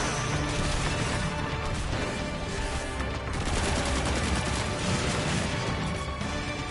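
Repeated heavy shotgun blasts in a chaotic video game firefight, loud and continuous with crashing impacts and burning clutter, with no voices over the din.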